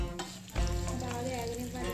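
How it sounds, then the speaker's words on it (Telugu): Dried red chilli, mustard seeds and cumin drop into hot oil for a coriander rasam tempering, erupting into a steady close crackling sizzle after a sharp initial splash. "ఆయిల్ ఎక్కింది కదా, దీంట్లోని రెడ్ చిల్లీ ఆవాలు జీలకర్ర వేసేస్తున్నాను."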